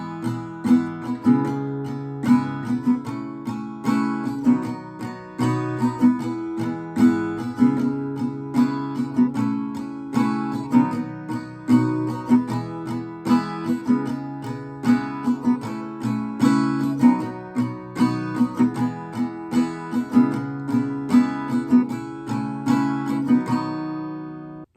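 Acoustic guitar strumming the chorus of a song, a steady rhythmic chord pattern with regular strong strokes, close and clear, played alone without any voice for about 25 seconds.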